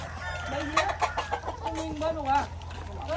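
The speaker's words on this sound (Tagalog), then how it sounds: "ang daming chicken" A flock of chickens clucking up close, overlapping bawks and warbling calls in quick succession, with a steady low hum underneath.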